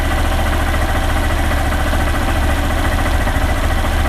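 A Honda CG 160 motorcycle engine idles after a repair for an engine noise, giving a steady, close, even idle with a rough low thrum and no voices.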